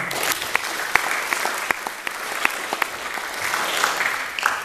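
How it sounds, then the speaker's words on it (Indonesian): A seminar room full of people clapping, a dense steady patter with a few sharper individual claps standing out, moderately loud and close. "Boleh tepuk tangan teman-teman?"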